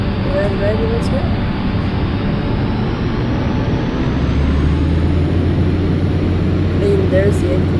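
The turboprop engine of a Cessna 208 Caravan in X-Plane 11 drones in a steady, loud hum throughout during the takeoff roll, with a deeper tone joining partway, under someone talking.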